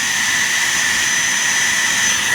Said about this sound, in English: Look at that spin. That is spinning very fast. I've always loved the spinning in the container.